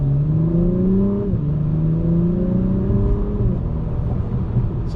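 A 2021 Acura TLX Type S in Sport Plus mode revs loudly up close, its engine climbing, dropping briefly, then rising and holding high revs with a steady, sustained drone.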